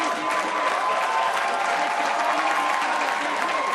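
A stadium crowd at a women's elite 1500m race in Montreal roars and applauds continuously, a dense, loud, steady wash of cheering and clapping.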